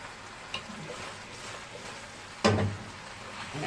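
Beef tripe (akawi) sautés quietly in a pan, a soft low sizzle broken by one louder clatter of stirring near the end.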